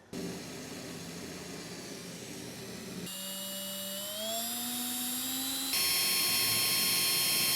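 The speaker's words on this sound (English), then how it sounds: "Pretty much all I wanna do is just start drilling into it." A power drill whines steadily, its pitch climbing as it bites in, stopping and restarting louder twice, while mounting an STI rear wing on a car; close and continuous, no talking.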